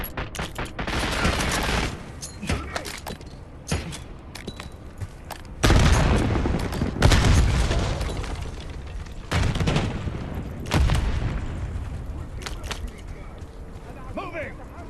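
Minigun fire in the Call of Duty Black Ops 6 campaign: heavy rattling bursts and booms come in several loud waves with pauses between, and voices talk over the battle.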